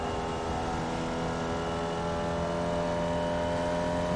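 A race car engine at Laguna Seca drones loud and close under throttle, a dense, steady roar with strong harmonic tones that holds for the whole stretch.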